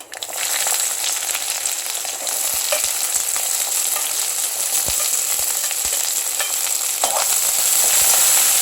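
Onions sizzle in hot oil, a continuous close, bright frying hiss with occasional clicks of stirring and no talk.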